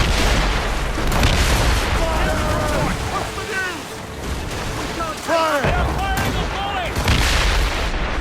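Cannon fire in an Assassin's Creed Rogue naval battle, video game: repeated heavy booms rolling over a dense, loud battle din, with shouted commands from the crew over the gunfire.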